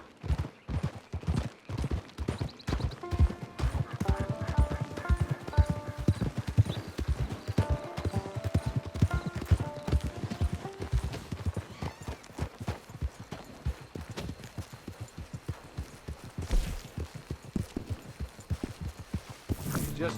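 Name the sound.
horse hooves clip-clopping in video game Red Dead Redemption Online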